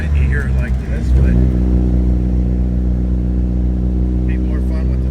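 Deep, rumbling exhaust of a 1961 Triumph TR3B sports car with its top up, idling steadily close by, a low throbbing burble after a brief rise, with a voice speaking over it at the start.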